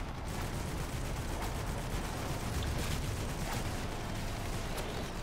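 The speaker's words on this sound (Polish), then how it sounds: "rakieta wybuchła koło nas" Dense, continuous rumble of explosions and gunfire crackle in the video game Prototype, with a rocket exploding nearby, loud and steady throughout with sharp bursts scattered on top.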